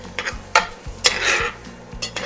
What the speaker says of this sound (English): bring out the ulu again and give this another stir